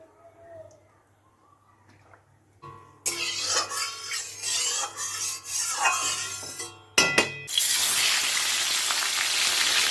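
Pomfret fish frying in mustard oil in a kadai, a loud broadband sizzle that bursts in after a quiet start, briefly drops out, then returns as a steady hiss with clinks and a faint hum underneath.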